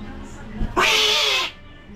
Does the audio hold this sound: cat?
yes